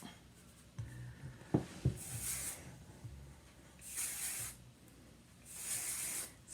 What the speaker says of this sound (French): un spray texturisant à la racine, qui n'est pas un shampoing sec